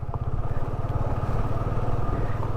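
A motorcycle engine idles steadily up close with an even, low putter throughout, just before the bike is parked near a coastal temple.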